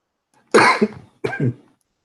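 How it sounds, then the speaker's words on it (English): Two harsh, close coughs in quick succession, loud and sudden, followed by silence. "I had a coughing attack right before I started the answer."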